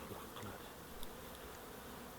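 Honeybees flying in and out of a hive entrance, a faint continuous buzzing hum with a few brief louder passes of individual bees close by, no voices.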